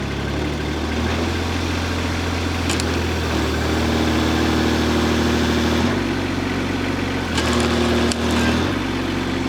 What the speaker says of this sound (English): Give her a little RPM.